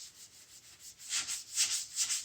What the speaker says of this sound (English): You can still sand on it